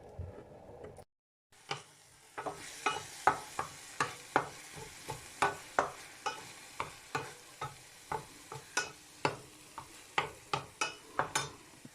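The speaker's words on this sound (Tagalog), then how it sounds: "Igisa natin siya sa kamatis at sibuyas at bawang." Tomato, onion and garlic sauté in a pan for a shrimp and asparagus dish. A steady sizzle runs underneath while a spatula scrapes and taps in a quick, regular rhythm, close and clear, after a brief silent gap near the start.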